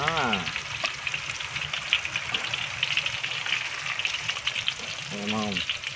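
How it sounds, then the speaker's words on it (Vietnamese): Crispy chive cakes (bánh hẹ) deep-fry in oil with a continuous close sizzle and stirring, while a voice speaks briefly at the start and again near the end. "cái này bánh hẹ chiên giòn các bạn"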